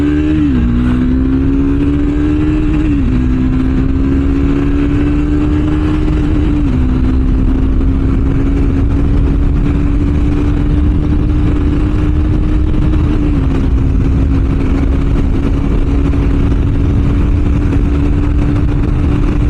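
A Triumph Speed 400 motorcycle pulls hard under acceleration, its engine a loud, steady drone whose pitch climbs through each gear, steps back at the shifts, then rises again. The sound is close and continuous, with no voices.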